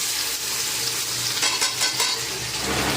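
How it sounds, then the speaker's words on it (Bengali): Onions sizzle and crackle steadily in hot oil, with occasional stirring scrapes rising over the constant frying hiss. Nobody speaks. "তেল আমাদের গরম হয়ে গেছে এবার তো পেঁয়াজ"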